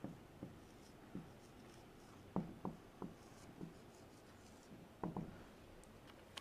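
Pen writing on a paper taweez, a series of soft, close scratching strokes in short bursts with quiet pauses between, recorded alone in a hushed room.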